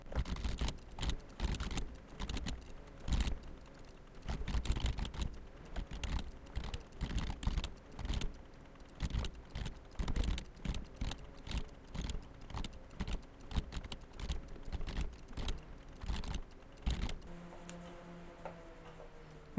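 Computer keyboard typing commands during an Arch Linux installation, with rapid irregular key clicks in bursts for most of the stretch, close and fairly quiet, then stopping near the end as a faint hum remains.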